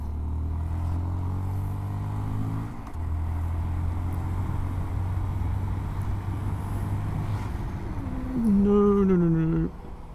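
A Honda Monkey motorcycle ridden on a road trying to pass a truck drones at a steady engine note, then briefly revs up higher before easing back.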